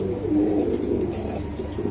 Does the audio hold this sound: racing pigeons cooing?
yes